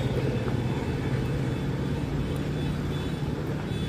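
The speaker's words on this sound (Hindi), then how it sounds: "ये जो ट्रैफिक आप जाते देख रहे हैं, ये अंडरब्रिज से जा रहा है" Road traffic rumbles steadily through the Subhash Nagar underbridge in Bhopal, a continuous low drone of passing vehicles at moderate distance, with no talk.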